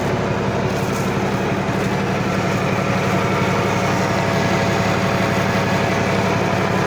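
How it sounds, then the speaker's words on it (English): A large engine idles with a loud, steady low rumble and hum that continues without change throughout. "That's a big engine."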